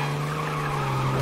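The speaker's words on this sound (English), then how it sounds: "Watch this drift." Tires skid and squeal steadily as a car drifts through a turn in Mafia Definitive Edition, a continuous loud screech over a low steady engine hum, with no voices.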